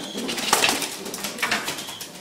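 Pigeons in a breeding loft coo softly amid a constant busy background of birds, with a few faint calls rising over the murmur.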